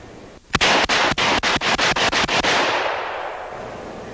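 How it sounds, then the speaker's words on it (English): Rapid gunfire from two handguns shot at a target, about ten sharp, loud, closely spaced cracks in a fast rhythm, followed by a fading echo and no speech. "Let's do a little more two-gun shooting."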